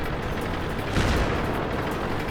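Heavy tank cannon fire in the World of Tanks video game, a single loud boom landing about a second in over a dense, continuous rumble of battlefield noise, with no talking.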